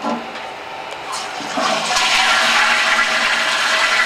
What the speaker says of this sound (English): Toilet. This is how you flush it there.